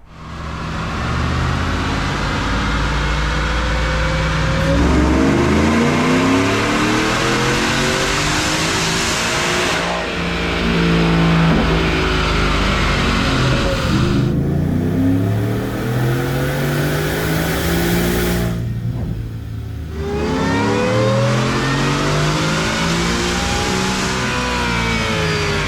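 A supercharged 2022 Ford F150 with a 5.0L V8 runs on a dyno with a Whipple tune on 93 octane, the engine roaring loud and close through several long climbing pulls, each winding up and then dropping back to idle.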